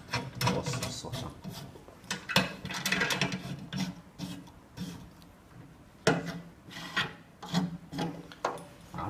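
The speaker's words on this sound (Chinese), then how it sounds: "先把螺丝锁上" Screws being tightened on a plate holding a bottle in a small autoclave bubble-removing machine, repeated rasping, rubbing turns and scrapes in an irregular rhythm, close and moderately loud.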